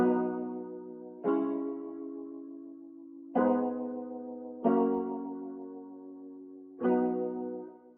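A guitar melody from a vinyl guitar VST, run through EQ with the low end cut and a T-Rex TR5 reverb, plays five loud plucked notes or chords at an irregular pace, each ringing out and decaying into the next, with no voices.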